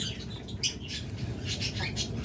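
Pet birds of high mutation varieties chirp and squawk in a steady scattered chorus, several calls overlapping at close range with no talk.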